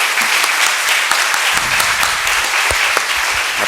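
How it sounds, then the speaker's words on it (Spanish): Loud, steady applause from an audience at an evening event for a master's program anniversary, dense clapping sustained without pause, with no talk over it. "Aplausos, por favor."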